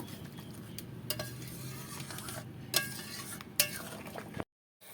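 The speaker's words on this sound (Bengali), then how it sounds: "এবার ঝোলটাকে ভালো করে একটু ফুটিয়ে জাল করে নেব" Pabda fish curry gravy with ground dried red chili bubbling in a pan, a soft steady simmering hiss with a couple of louder clinks from the pan before it cuts to silence.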